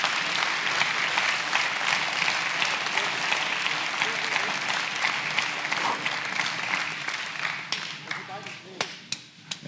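A television game-show studio audience applauds, loud and dense at first, then thinning into scattered individual claps toward the end.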